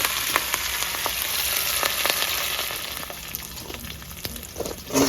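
Curry leaves crackle and sizzle in hot oil alongside lightly fried garlic for cauliflower 65, a steady close frying hiss with scattered pops and no talk.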